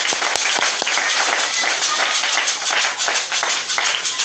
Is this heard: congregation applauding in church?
yes